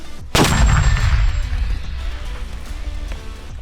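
A single loud mortar shot booms out near Bakhmut, followed by a long rumbling decay and echo fading across the remaining seconds.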